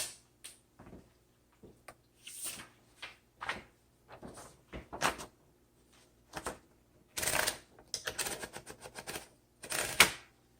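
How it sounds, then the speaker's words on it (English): A 1953 Smith Corona Sterling 5A manual typewriter is typed on in irregular bursts of sharp, close key strikes, with a few louder mechanical clunks in between and no talking. "let's load up a piece of paper and do our typing demo"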